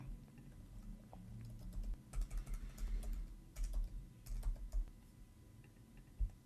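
Keys clatter on a computer keyboard in short irregular bursts, close and fairly quiet, with brief pauses between runs of typing.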